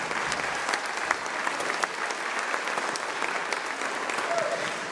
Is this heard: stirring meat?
no